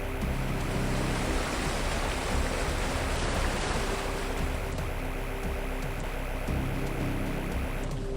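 Steady rushing waterfall from the AM2R video game, a dense broadband roar that holds at the same loud level throughout, with a faint low electronic hum beneath and no voices.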